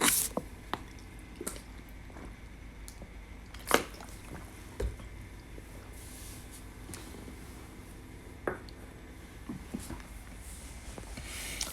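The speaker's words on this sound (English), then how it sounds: "Let me get some water real quick" A person quietly drinks a glass of water: scattered wet sips, small squishy swallows and clicks spread over several seconds, close and soft, with no talking.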